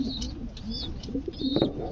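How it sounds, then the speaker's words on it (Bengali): A pigeon kept for breeding and sale coos nearby, a few soft throaty phrases rising and falling over quiet background. "খুবই ভালো কবুতর"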